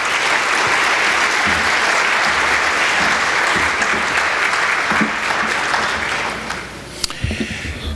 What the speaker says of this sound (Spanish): Permítanme, por favor, brindarle un fuerte aplauso